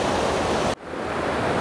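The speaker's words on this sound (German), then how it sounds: "Da rauschen die Bäche, Flüsse und Gewässer hier den Berg runter." Mountain streams and rivers rushing down the slopes beside a road in Norway: a steady, dense roar of flowing water, loud and close, with a brief dip near the middle before it returns.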